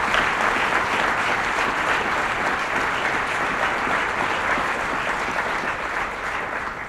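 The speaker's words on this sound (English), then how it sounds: "And give him a round of applause" Dense, steady applause from a large audience honoring a state commissioner at a government broadband announcement, sustained at full volume for the whole stretch and easing slightly at the end, with no talking over it.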